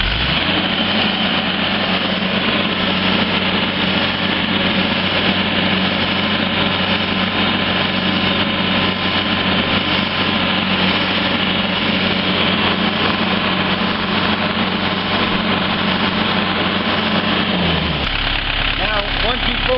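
A Honda HDX750 UTV engine held at full throttle during a charge-pressure relief adjustment, a loud steady high-revving drone that runs unbroken for most of the clip, then cuts back to a lower idle near the end; no talk over it.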